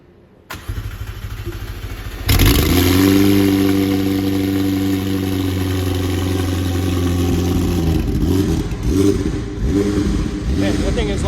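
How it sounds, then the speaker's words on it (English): Cold start of a rear-wheel-drive 765 hypercar: a whirring crank catches into a loud, deep engine roar, then settles into a steady, rumbling high idle close by. Voices are faintly present. "Give this thing a cold start when you're ready."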